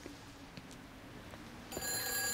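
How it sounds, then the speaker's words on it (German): A telephone begins ringing inside the video game Everybody's Gone to the Rapture, a sharp electronic bell that starts partway through and rings on steadily and fairly loud over a quiet ambient background. "Da klingelt schon wieder ein Telefon."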